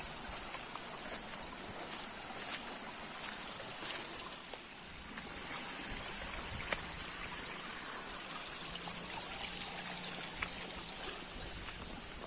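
Water gushes from the Baraya spring in a quiet rural village, a steady, close, broadband rush that runs unbroken throughout with no voices over it.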